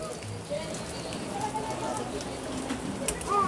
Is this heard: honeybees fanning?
no